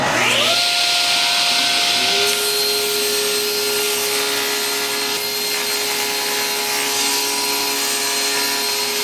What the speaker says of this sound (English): so I'll cut a strip off